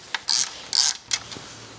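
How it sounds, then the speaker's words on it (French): Ratchet with a 13mm socket removing a stud on a BMW M52TU/M54 VANOS unit: three short, loud bursts of ratcheting clicks close by, separated by brief pauses. "on dépose ce goujon avec une douille de 13."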